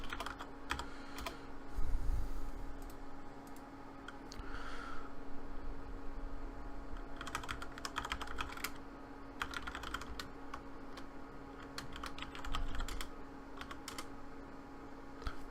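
Close, fast typing on a computer keyboard, with clustered bursts of key clicks and short pauses between them over a steady background hum.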